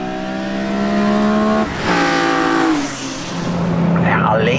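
A BMW E46 M3 CSL engine screams high-revving through the gears, pitch climbing then dropping at each shift, loud and close with a brief lift-off in the middle.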